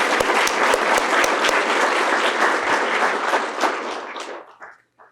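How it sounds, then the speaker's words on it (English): An audience at a youth leadership award ceremony applauds for an honoree, a full burst of steady clapping with a few sharp nearby claps that thins out and fades to scattered claps and quiet over about five seconds. "Can you join me in giving her a round of applause?"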